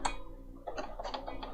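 A Bernina 500 series sewing machine sews a triple stitch, giving a quick run of soft mechanical ticks and clicks, close and quiet.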